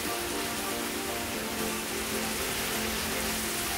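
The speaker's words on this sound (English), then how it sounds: "I'm not sure if you guys can hear how it is raining." Rain pours down steadily in an even, continuous hiss, close and fairly loud, with no voices.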